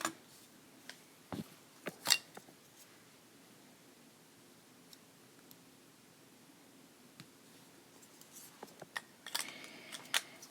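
Scissors trimming the thread of a beaded herringbone bracelet, a few faint crisp snips spread out over quiet near-silence, with soft handling rustles toward the end.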